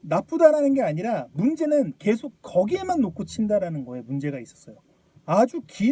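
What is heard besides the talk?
No distinct noise like a dog, phone or traffic.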